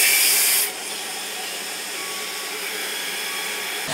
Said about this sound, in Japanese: 次のセット行く前に軽く乾燥させてもらいましょう。